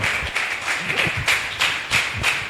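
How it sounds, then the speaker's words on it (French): A church congregation claps for God at a worship service, a loose run of hand claps, fairly close and steady, with a few voices in the background. "Applaudis pour le roi des rois."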